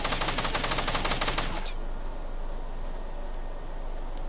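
Rapid automatic gunfire in Fortnite rattles loud and close in an even burst for about a second and a half, then cuts off, leaving only a faint game background hum.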